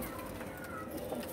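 Teddy pigeons kept by a fancier cooing softly and continuously in a loft, a low murmuring bird sound with no talk over it.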